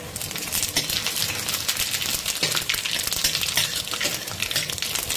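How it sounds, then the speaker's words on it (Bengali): Five-spice seeds hit hot mustard oil and crackle in a dense, continuous sizzle with quick popping bursts, close and fairly loud with no voices. "বন্ধুরা দেখুন এখানে তেলটা কিন্তু গরম হয়ে গেছে, আর এই সময় দিয়ে দিচ্ছি ফোড়ন।"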